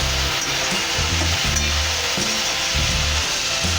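Broccoli frying in oil with chilli, salt and turmeric, a loud continuous sizzle with repeated scraping stirs of a utensil against the pan, close by and with no voices.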